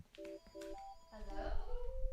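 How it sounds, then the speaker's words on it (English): A telephone rings in repeated short electronic double-tones, faint and steady, with low background rumble and other noise building underneath. "Why is the phone ringing so long?"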